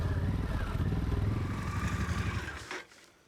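A Harley-Davidson Pan America adventure motorcycle rides through deep off-road ruts, its engine rumbling loudly and steadily with some clatter, then dropping away abruptly near the end.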